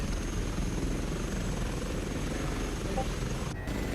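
Airbus H145 helicopter in Microsoft Flight Simulator, its steady loud rotor and turbine drone continuous throughout and briefly dipping near the end.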